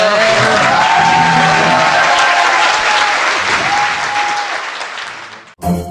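Studio audience applause at a Korean TV show, a steady roar of many hands clapping close and loud for several seconds, easing slightly before cutting off.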